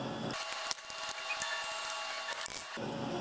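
A torque wrench tightens bolts on a VW 1.8t 20v engine during a timing belt job, giving a quick run of close, faint ratcheting clicks against quiet background hiss.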